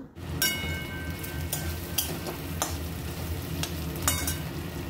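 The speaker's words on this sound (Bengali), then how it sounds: "মাছ ভাজার তেলের উপরে দিয়ে দিচ্ছি ফোড়ন, তেজপাতা আর জিরে" Bay leaf and cumin crackle and sizzle in hot oil with steady frying hiss, punctuated by a few sharp scraping stirs of a utensil.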